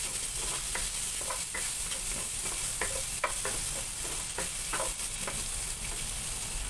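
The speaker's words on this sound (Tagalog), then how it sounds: "Ayan, una natin i-gisa yung sibuyas." Onion and garlic sauté in a hot pan, a continuous sizzle broken by regular scraping strokes of a spatula stirring the pieces, close and steady with no talking.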